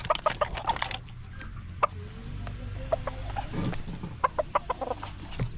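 Chickens cluck in short, irregular bursts across a farmyard, a mix of near and slightly distant calls over a low background rumble, with no talking.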